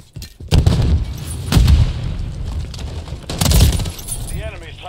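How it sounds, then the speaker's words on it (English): A stun grenade detonates in the video game Modern Warfare 3, giving a loud, close burst with a shattering, glassy crack, followed by further heavy blasts about a second and two seconds later over continuous gameplay noise and muffled voices. "Stun grenade out."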